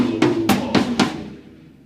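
A drum kit plays four evenly spaced tom hits, about a quarter second apart, each ringing with a low pitched body and a bright attack, then a decaying tail. Close and fairly loud, with no talking.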